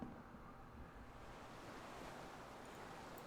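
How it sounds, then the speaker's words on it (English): Steady rushing water far below in Disco Elysium, a broad continuous wash like distant surf with wind, no voices. "Water rushes below, far down below."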